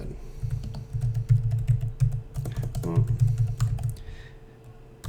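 Someone types a command on a computer keyboard in a steady run of close, rapid key clicks lasting several seconds, with a couple of louder taps and a faint background hum.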